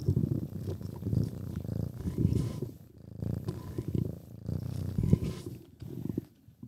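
A domestic cat purrs close to the mic in a soft, rhythmic rumble that rises and falls with each breath, steady through the whole stretch.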